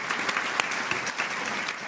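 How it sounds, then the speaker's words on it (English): Audience applause at a church service led by a minister, steady dense clapping throughout the short moment with no talk over it. "So we give Ken a great round of applause"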